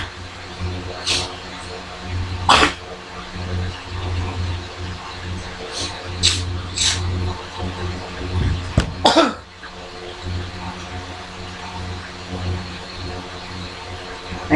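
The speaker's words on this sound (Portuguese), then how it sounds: "você tosse e não tem nada" Several sharp coughs spaced across a quiet room, with a low steady hum running beneath them and no talking.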